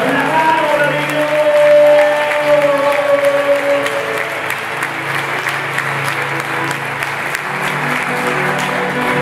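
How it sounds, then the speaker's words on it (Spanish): An audience applauds continuously for several seconds at a church-style gathering, dense steady clapping that is loud and close, with music fading out early and faint cheering. "¡Aplaude, aplaude a los que crecen y crecen y conquistan!"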